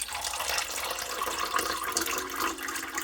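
Water poured into a bowl for rye bread dough, a steady close splashing stream that runs without a break.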